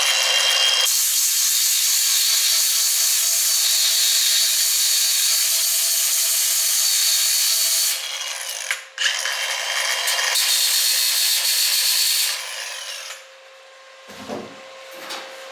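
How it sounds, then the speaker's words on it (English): A power tool sands a small nick off a 1966 Ford Mustang body moulding near the A-pillar drip rail, a loud steady buzzing grind for about eight seconds, a brief dip, then another long burst before winding down into quiet shop noise. "Just let me sand that little nick off there."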